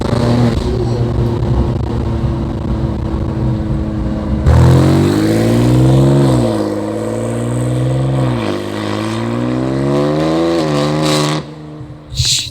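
A 700 HP BMW M2 build revs loud and close, its engine note sweeping up and down in repeated rising pulls before cutting off near the end.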